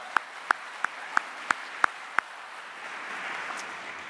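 Seven sharp, evenly spaced claps ring out one at a time, followed by a soft rising hiss of background noise.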